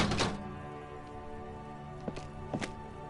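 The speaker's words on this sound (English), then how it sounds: "There is a hollow ring as you kick the box." Boot kicks against a dented yellow mailbox in Disco Elysium, a few hollow metallic knocks spaced apart over a faint steady background hum, quiet and close.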